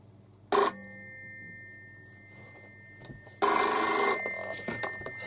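A telephone rings in two loud, bright bell bursts separated by a few seconds of quiet, with no talk.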